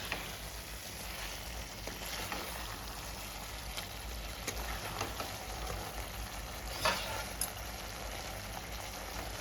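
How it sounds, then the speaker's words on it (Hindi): Chicken cooking dry in a pan for a Turkish-style creamy chicken dish, a steady low sizzle and frying hiss with occasional small pops, no talking. "चिकन को हमें अच्छे से ड्राई कर लेना है।"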